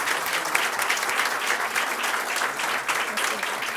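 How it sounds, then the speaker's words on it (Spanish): Strong applause from the audience at a scholarship award ceremony, a sustained burst of clapping heard close and full throughout. "Así que un fuerte aplauso para..."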